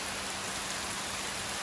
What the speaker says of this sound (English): It's raining pretty hard. It seems heavy. Look at it. Look at on the roof.